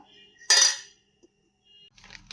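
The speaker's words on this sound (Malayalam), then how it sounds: "മഞ്ഞൾപ്പൊടി മുളക് പൊടി മല്ലിപ്പൊടി കുറച്ച് കുരുമുളക് പൊടി ഇതൊക്കെ കൂടി നമുക്ക് ചിക്കനിലേക്ക് കഴുകി വെച്ചിരുന്ന ചിക്കനിലേക്ക് ആഡ് ചെയ്തിട്ട് നന്നായിട്ട് മിക്സ് ചെയ്തെടുക്കാം" A single loud metallic clatter rings out as chicken is mixed with turmeric, chilli, coriander and pepper powders in a bowl, followed by near silence and a faint scrape.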